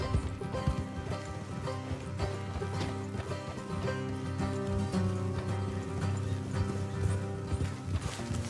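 Horses trotting in the game Red Dead Redemption 2, a steady rhythmic clip-clop of hooves running throughout beneath a dense layer of music.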